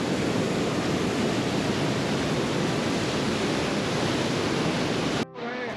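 Loud, continuous roar of the rushing Saraswati River at Mana village, dense and unbroken, cutting off abruptly near the end to a quieter, hollow background.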